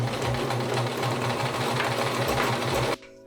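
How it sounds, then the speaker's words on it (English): A sewing machine runs continuously as it stitches a fabric hem along the sides of a handmade graduation cap, a loud, close, rapid mechanical whir that stops abruptly near the end. "then I'm going to sew along the sides, fold them inside to the center"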